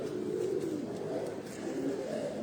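Low, continuous pigeon cooing close by, a soft throaty murmur that swells and dips without pause.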